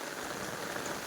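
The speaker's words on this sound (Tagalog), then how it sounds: "biglang bumuhos yung ulan" Sudden heavy rain pouring down outdoors, a dense, steady hiss of drops drumming on surfaces with no break.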